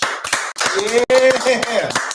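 A small crowd claps in a lounge at the start of a talk show, a brief burst of hand claps mixed with loud, close voices and cheering.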